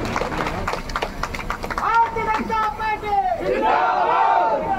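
A political rally crowd in Rahatgarh, Surkhi constituency, Madhya Pradesh, roars and cheers loudly and steadily, with raised voices and a swelling burst of noise near the end.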